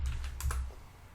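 A short burst of a few keystrokes on a computer keyboard, quiet and close, clicking in a quick cluster before fading.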